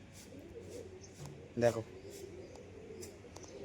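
Pigeons coo once, briefly and close by, against a quiet room as a person talks over them.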